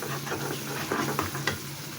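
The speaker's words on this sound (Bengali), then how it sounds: "তো মশলাটাকে এখন একটু ভালোভাবে কষিয়ে নিচ্ছি।" Masala mixed with a tablespoon of beaten sour yogurt sautés in hot oil for a roast, giving a steady close sizzle with soft stirring scrapes and a few sharper spatula taps.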